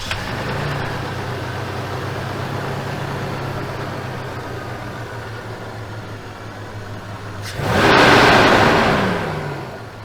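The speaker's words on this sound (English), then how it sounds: "We'll start it right now so you guys can take a look at it." A Toyota 4Runner Limited engine idles steadily with a low, even rumble for most of the clip, then a louder burst of revving or a surge of broadband noise swells near the end before easing off.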